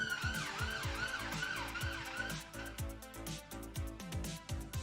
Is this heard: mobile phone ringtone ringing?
no